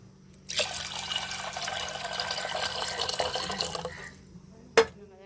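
Water pours steadily into a cooking pot for about three and a half seconds, a close splashing rush that stops abruptly, followed by a sharp clink of metal.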